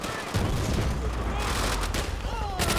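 Gunfire in the Call of Duty: World at War campaign on Veteran difficulty, a dense, continuous battle mix of rifle and machine-gun shots with distant booms, loud and sustained throughout, with a voice talking over it.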